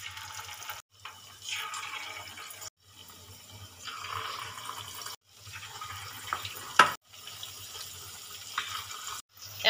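Chilli fish pakoras drop one by one into hot white oil on a tawa, each raising a burst of sizzling with brief quiet gaps between them.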